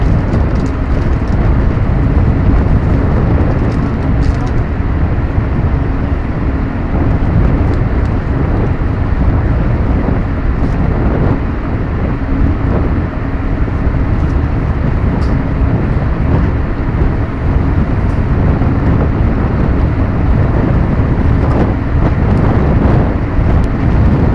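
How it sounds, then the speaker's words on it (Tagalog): Strong wind buffeting the microphone on a boat crossing from Dalahican Port to Marinduque, a loud, continuous roaring rumble mixed with engine and water noise that holds steady throughout. "Lakas ang hangin, mainit."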